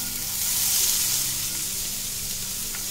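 Thinly sliced onion fries in hot oil, giving a steady, close hissing sizzle that holds evenly throughout with no talk.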